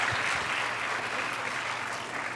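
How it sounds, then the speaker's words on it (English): A dense, sustained wash of audience applause at a Black History Month monologue event fills the room close and loud, with no voices over it. "we just owe you guys a big, huge round of applause"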